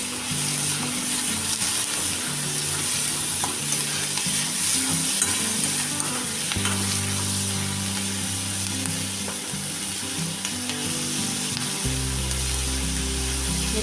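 Vegetables and chillies fry in a little oil in a pan for kaju curry, giving a steady close sizzle with occasional stirring scrapes throughout and no voices.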